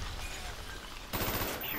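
An automatic weapon in Call of Duty: Black Ops fires a short, fairly quiet burst near the end, after a stretch of low background game noise.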